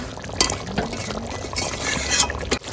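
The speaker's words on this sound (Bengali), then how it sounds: "এখন ওই জন্য জল দিয়ে দেবো মাংসটা একটু মাখা মাখা হবে" Water poured into chicken curry cooking in a pan, a steady close pouring and splashing wash that runs for a couple of seconds over faint bubbling.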